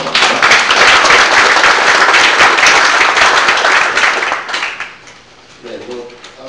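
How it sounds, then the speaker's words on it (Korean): A crowd at a book launch event claps loudly in a thick, sustained round of applause that tapers off and gives way to a voice. "여러분 큰 박수 맞아주시기 바랍니다"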